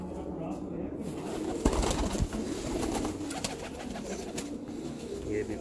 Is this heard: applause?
no